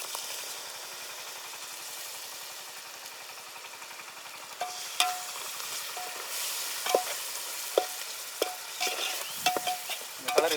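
Yogurt is stirred into chicken biryani masala sizzling in oil. A steady, quiet fry gives way to repeated scraping stirs and crackling bursts.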